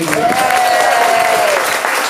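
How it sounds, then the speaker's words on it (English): An audience on the Disney Hollywood Studios backlot tour claps for the cast, a captain and his deck crew, a loud, close burst of applause with a sustained tone running through it. "let's have a big round of applause for Brave Captain Peter Grant and his wild and wacky deck crew, Sarah and Jamie"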